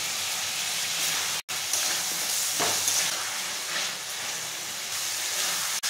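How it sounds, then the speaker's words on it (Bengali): Small chopped chicken pieces are stir-fried with cooked-down spices and salt in a pan, giving a continuous loud sizzle with occasional stirring scrapes. "ছোট ছোট করে কাটা চিকেনটা দিয়ে দেব। কষাতে থাকবো।"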